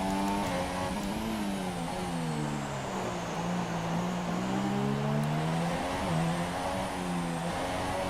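A Formula 1 car in the F1 2017 video game drives in wet conditions, its engine droning steadily with rising and falling revs and gear changes, with a faint high whine above it.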